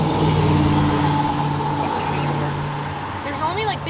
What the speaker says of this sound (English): Only like big giant trucks around here and they're so loud.